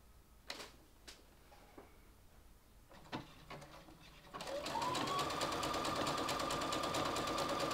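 After a few scattered clicks and handling taps, a sewing machine starts up and runs a fast, steady zigzag stitch across fabric scraps, loud and close with a continuous mechanical whir.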